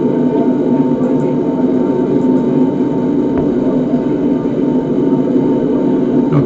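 Boeing 747-800 jet climbing out of Cairns just after takeoff, heard from inside the aircraft as a steady, loud, dense engine roar with no break.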